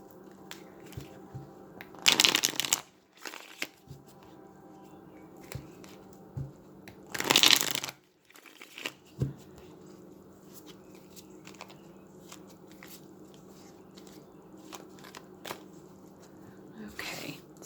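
A Rider-Waite-Smith tarot deck is shuffled by hand in two brief, crisp riffling bursts a few seconds apart, separated by soft handling rustles and quiet background hum.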